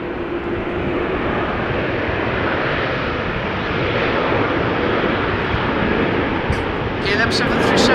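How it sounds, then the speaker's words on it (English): KLM Boeing 737-700 airliner bound for Berlin at a rainy Amsterdam Schiphol, its steady engine roar swelling slightly toward the end, mostly alone with a brief voice at the close. "KLM 737-700 to Berlin."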